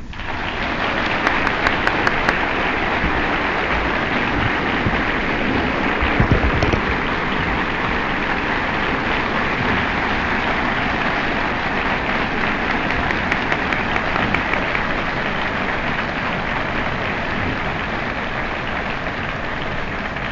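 Sustained applause from a lecture-hall audience at a 1965 UCLA debate fills the room with a dense, even patter of clapping that holds steady without fading.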